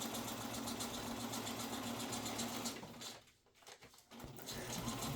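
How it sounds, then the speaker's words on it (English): A home sewing machine stitching old animal feed bags into reusable shopping bags, running in a steady rapid whir that drops out briefly near the end before starting again, close and moderately quiet. "she was willing to use her fancy sewing machine on old feed bags"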